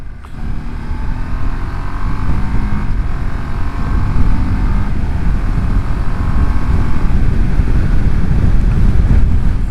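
A 2026 Ducati Multistrada V2S twin-cylinder motorcycle is ridden on the road, its steady engine drone heard close from the rider's position under heavy, continuous wind rush across the microphone, with no talking.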